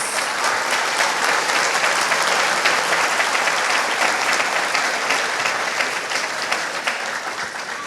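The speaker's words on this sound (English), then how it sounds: "So let's give them a round of applause." Audience at a police officer graduation ceremony giving a loud, sustained round of applause that holds strong for several seconds, then gradually tapers toward the end.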